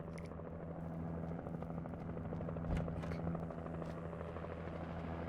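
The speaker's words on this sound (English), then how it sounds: "that helicopter's gonna actually pick me up" A helicopter drones steadily in Alan Wake, its rotor hum constant and mid-distance across the whole stretch, fairly quiet under faint game ambience.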